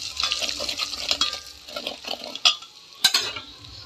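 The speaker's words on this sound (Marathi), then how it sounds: "तेलामध्ये मस्त गरम मसाला टाकलेली चटणी टाकून घ्यायची आहे। आता हलवून घ्यायचं।" Garam masala chutney being stirred into hot oil for chicken rassa, with a spoon scraping and clinking against the pan over a soft sizzle and a couple of sharper knocks.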